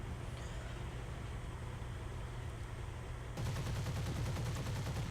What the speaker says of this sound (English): Fire off the last of the ammunition.